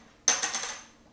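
Sony Tough SD card dropping onto the floor: a single sharp, bright click of hard plastic striking, followed by a few quick small rattling bounces that fade within a second.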